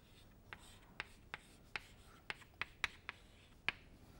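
Chalk or pen strokes writing out equations on a board during a lecture on supersonic flow, faint, sharp taps and short scratches in an irregular rhythm, roughly ten distinct strokes with no talking.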